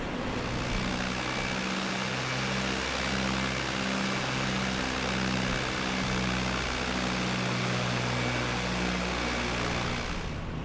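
A Cessna 172 engine taxiing in Flight Simulator X drones steadily at a low, even idle, loud and continuous for the whole stretch with a faint broadband rush and no talk.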